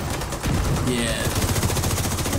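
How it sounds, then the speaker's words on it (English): A deployable turret in The Division 2 fires a rapid, continuous stream of shots, with a voice speaking over the chatter of gunfire. "That turret never fails me, dude."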